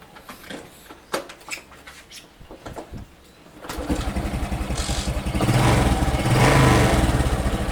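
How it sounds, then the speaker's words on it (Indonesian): A Honda Supra X motorcycle with a fuel-flooding fault has some clattering handling noise, then its engine catches and settles into a steady, loud idle that runs to the end. "sekarang kita coba tes dari sepeda motornya untuk menghidupkan dari motor ini ya. Kita coba hidupkan dulu."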